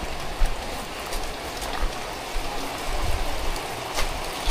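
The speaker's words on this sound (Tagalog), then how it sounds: "Lakas ng ulan." Heavy typhoon rain pours down on the coast at Infanta, Quezon, in a dense, steady hiss, with occasional louder splashes and gusts rising through it.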